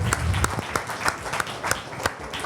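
An audience applauds a presenter at a French public health conference, steady close clapping from a seated crowd with no talk over it.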